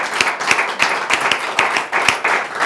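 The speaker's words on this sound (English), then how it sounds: "They deserve a round of" Rhythmic clapping from a small studio audience, with sharp, evenly spaced claps about every half second, close and fairly loud, sounding like a few people clapping together in time.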